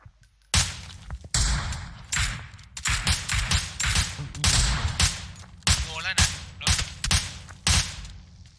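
Gunfire in the PUBG Mobile video game: repeated loud, close bursts and single shots crack in irregular clusters across the whole stretch, with brief gaps between volleys.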